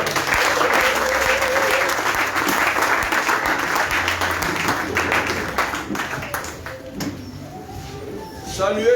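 Sustained applause from a church congregation fills the room, broad and steady, thinning slightly toward the end, with voices mixed in beneath the clapping.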